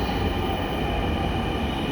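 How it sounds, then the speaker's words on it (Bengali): A Matijheel-bound Dhaka metro train pulls into Agargaon station, a steady, loud rumble of rolling carriages and wheel noise filling the platform throughout, with no voices. "মতিঝিলগামী একটি মেট্রো এসে স্টেশনে পৌঁছালো"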